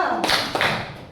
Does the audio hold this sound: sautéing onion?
no